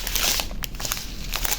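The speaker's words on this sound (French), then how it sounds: "il y a des petits pointillés sur le sachet, mais ça se déchire pas" A plastic diamond-painting sachet with perforations crinkles and crackles as hands work at tearing it open, a dense run of close, bright rustles with no talk.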